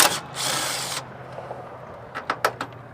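Two 10mm bolts being removed from radiator brackets on an Infiniti G20 with an SR20 engine, heard as a loud power-tool burst followed by several short metallic clicks and taps.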